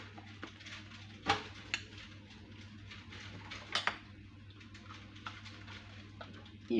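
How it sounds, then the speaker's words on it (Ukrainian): A fork clinks and scrapes against a bowl as eggs and sour cream are whisked, with a few sharper taps standing out over a steady low kitchen hum. "І це все я збиваю вилочкою."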